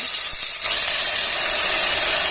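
Spinach, chana dal and peanuts drop into hot oil with cumin in a pot, giving a loud, continuous sizzling hiss that swells after a moment and holds steady throughout.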